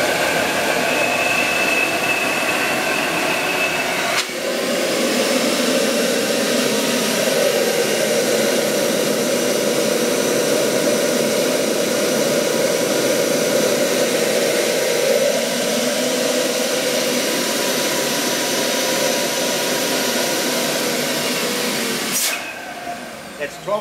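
A Steambrite Goliath vacuum runs with all four vac motors on, a loud steady roaring whoosh close by that shifts slightly in pitch partway through, then cuts off near the end.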